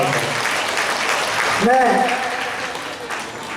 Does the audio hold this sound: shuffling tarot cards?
no